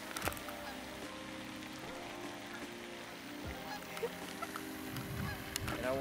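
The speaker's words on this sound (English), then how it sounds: "the basket's up on the hill up there with those geese. So, Canadian Canada geese." Canada geese honk repeatedly in the distance on a hillside at a disc golf course, over outdoor background noise, their calls scattered and fairly faint.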